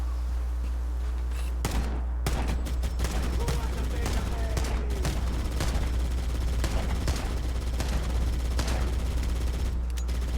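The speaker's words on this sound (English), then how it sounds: "Magnum sounds good." Magnum pistol gunfire in a Halo video game, with sharp shots cracking at irregular intervals over a steady low game hum and scattered action noise.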